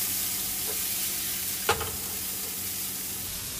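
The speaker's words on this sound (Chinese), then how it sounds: "倒入豆芽，先翻炒出香。" Bean sprouts stir-fried in a wok with hot oil, garlic slices and scallion, a constant bright sizzle with one sharp scrape of the spatula midway, close and without speech.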